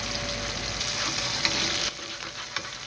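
Smash burgers seasoned with salt and pepper sizzle loudly on a hot griddle, a steady close crackling hiss that drops somewhat in level near the end.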